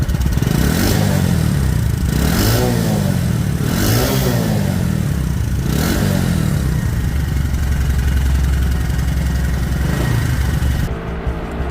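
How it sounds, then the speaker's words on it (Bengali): A 2020 Bajaj Discover 125 cc motorcycle revs in repeated bursts from idle, about four rising-and-falling throttle blips, then settles into a steady, close idle for the rest of the run. "গাড়িটির সাউন্ড কোয়ালিটি শুনুন"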